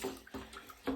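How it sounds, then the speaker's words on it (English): Bath water sloshes and splashes in short bursts at close range, a few quick movements of water within a container, fairly soft overall. "That splash was definitely bigger."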